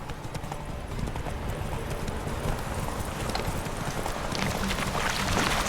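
Geralt's horse gallops in The Witcher 3, its hooves drumming in a fast, steady clip-clop that stays loud and close throughout, with no speech over it.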